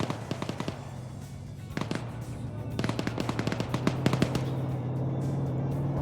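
Rapid bursts of gunfire in an infantry-focused video game, a steady battle din of repeated cracks and volleys over a low engine-like hum.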